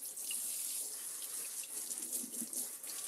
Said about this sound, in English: So let's rinse this out.